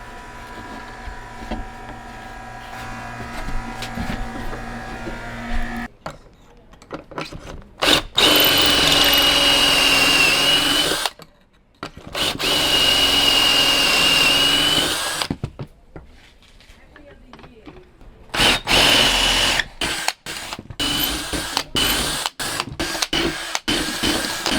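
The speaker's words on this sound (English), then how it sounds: "Let's go make some pocket holes and get this thing secured." Pocket holes are drilled into wood for a closet in a Sprinter van build. Loud, close power-drill bursts of several seconds each are separated by brief silences, followed by shorter rapid spurts.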